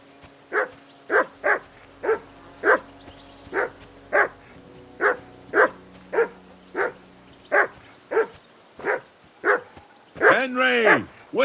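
A dog in Kingdom Come: Deliverance II barks in a steady series of about fifteen sharp, evenly spaced woofs, loud and close, ending in a higher whining yelp.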